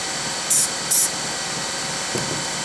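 Two short bursts of CA glue accelerator aerosol spray hiss out in quick succession over a steady background hum, followed by a faint clunk.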